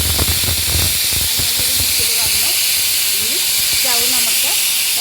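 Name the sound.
pressure cooker whistle releasing steam, cooking biryani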